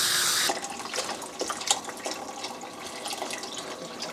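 Vegetable broth pours into a cooking pot for mushroom risotto. A loud rushing gush settles into softer splashes and trickles nearby.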